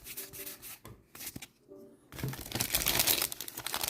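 A Pokemon Paradox Rift booster pack is torn open, with close crinkling and tearing of foil wrapper, a brief pause, then louder rustling and rubbing.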